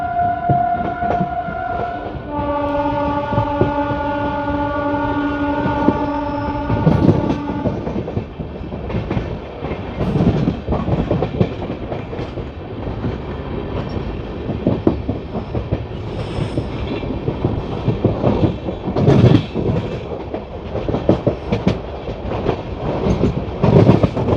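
Hoshiarpur–Agra Cantt Express LHB train running fast on the main line: a loud, sustained horn blast at the start, then continuous close rail clatter and rolling rumble with rhythmic wheel clicks throughout.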